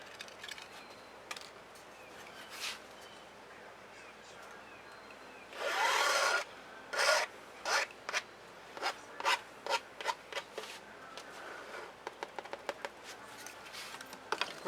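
Acrylic paint, white pearl mixed with gold, scraped and stirred with a spatula on a painting surface, giving quiet rubbing and rasping strokes that turn into a run of short, louder scrapes toward the end.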